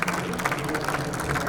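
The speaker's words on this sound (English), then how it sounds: "Give a round of applause for yourselves" Audience applause at the close of a health tech competition, a dense, continuous wash of clapping from a crowd with some background voices mixed in.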